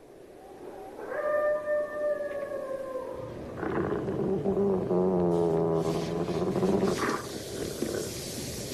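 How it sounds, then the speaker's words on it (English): A pack of coyotes howls right outside a tent at night, with long wavering howls rising and overlapping, then a busier chorus of yips and growls, loud and close throughout. "a pack of coyotes woke him up with howls and growls right outside his tent"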